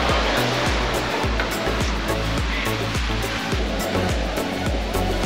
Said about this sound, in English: small little waterfall down there, and it's very pretty